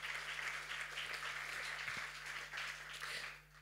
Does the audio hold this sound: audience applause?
yes